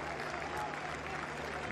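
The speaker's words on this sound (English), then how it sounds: "that's nice applause from the crowd here in the Stadio Arecchi in Salerno" A stadium crowd at Stadio Arecchi in Salerno applauds steadily through the whole moment during a Universiade 2019 football final between Brazil and Japan, a dense, even wash of clapping filling the stands.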